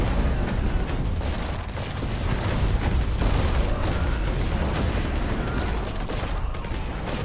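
Airstrike explosions in a strategy video game arrive as a dense, continuous barrage of booms and crackling blasts, loud and sustained throughout.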